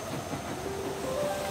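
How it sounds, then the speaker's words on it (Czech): Circus train in a children's cartoon rolling along steadily, a continuous rumbling rail noise with faint tonal squeal, moderately loud with no talking. "Cirkusový vlak."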